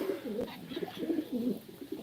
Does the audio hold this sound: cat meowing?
no